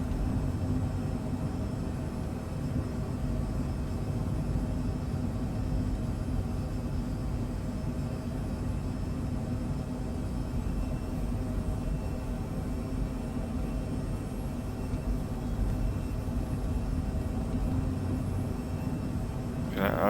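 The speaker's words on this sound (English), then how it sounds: "I honestly can't believe I'm flying a jet." Phenom 100 business jet cockpit in Microsoft Flight Simulator 2020 on a Caribbean flight from San Juan to St. Maarten, a steady broadband engine and air hiss with a low rumble running continuously, unchanging and fairly loud.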